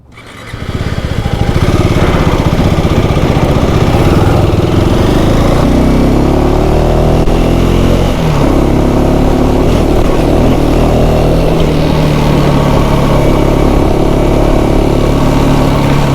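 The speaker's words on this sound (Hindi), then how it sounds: "बाइक तो नो डाउट यार बढ़िया है, जिस हिसाब से परफॉर्म कर रही है ना, सही लग रहा है" A KTM 390 Adventure motorcycle is ridden on a mountain road toward Chitkul. Its single-cylinder engine drones loud and steady for the whole stretch, rising and falling slightly as the throttle changes, with heavy wind rush and no voices.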